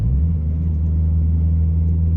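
A 2005 Dodge Neon SRT4 ACR with a 2.4 liter turbocharged intercooled engine on Toyo Proxes R888R tires, heard as a loud, close, steady low engine rumble with a sustained drone and no talking.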